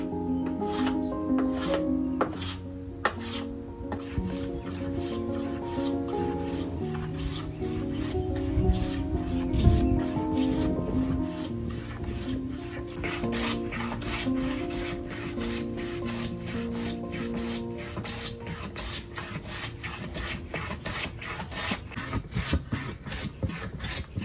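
Hand tools smoothing wooden boards for a tool cabinet, giving steady rubbing and scraping strokes in a repeating rhythm, close and moderately quiet, with sharp ticks between passes.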